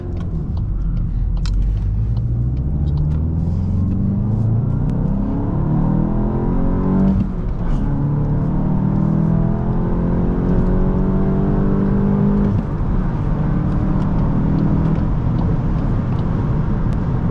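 A manual 2024 VW Golf GTI 380 SE pulls hard on a freeway, its engine note rising steadily through gears with sweeping pitch climbs and brief dips at shifts, loud and continuous inside the cabin.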